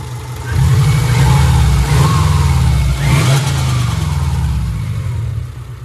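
A Subaru NA/T car engine, running slightly rich without a factory O2 sensor, idles steadily up close with a low, even rumble and a light rev near the start, no talk.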